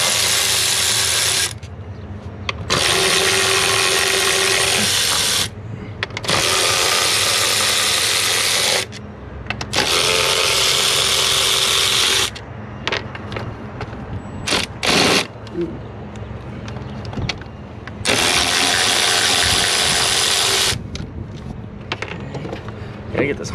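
A power ratchet whirs in long bursts while small 8 mm bolts come off a 6.7 Cummins diesel engine, with short pauses and clinks of tools between runs.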